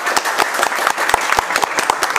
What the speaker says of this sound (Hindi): और एक बार देव सर के टीम के लिए ताली।